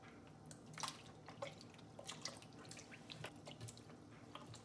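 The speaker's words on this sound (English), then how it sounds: "Now we wash with cold water." Cold running water rinses a sticky, stretchy dough in a kitchen, giving a faint, continuous trickle with small splashes and drips.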